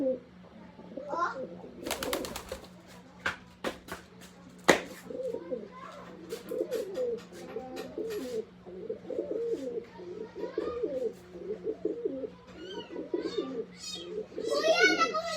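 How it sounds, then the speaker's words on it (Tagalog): Escaped pet pigeons coo repeatedly near and far, with soft bird calls scattered throughout, while people, including a child, talk over them. "Kuya, nakawala yung mga kalapati mo!"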